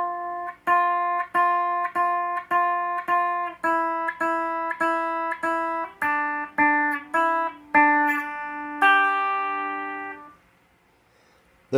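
A guitar plays the second part of Jingle Bells as a clear melody of plucked single notes, steady repeated picks that ring out alone, ending on a longer held note that fades to silence.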